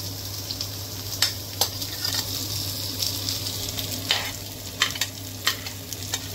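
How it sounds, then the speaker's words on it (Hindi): Finely chopped onion sizzles steadily in oil in a pan for a Goan brinjal sabzi, with a spoon scraping and stirring in short clicks and sweeps over a constant low hum. "आता घालता कांदो बारीक चिरलेलो. ताका मातसो ब्रावन करपाचो."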